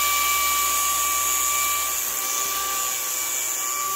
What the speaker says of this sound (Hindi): अब ये खेल रहा है अपने ड्रोन से